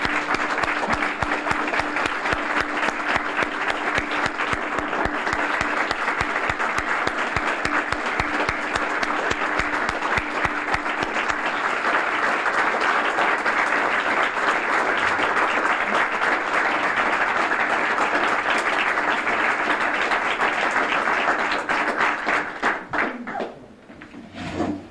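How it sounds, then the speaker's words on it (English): A large audience at a tribute event gives a long, sustained round of applause, a dense, even roar of clapping for over twenty seconds that thins out at the very end. "Would you please join me in giving these guys a round of applause?"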